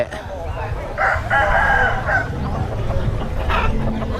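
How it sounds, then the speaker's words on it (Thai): Fighting cocks crow at a Thai rooster market, with several loud, drawn-out calls close by over a rumbling crowd and faint background voices. "ไก่ชนไก่ชนท่านผู้ชม ตลาดไก่ชนไก่แจ้"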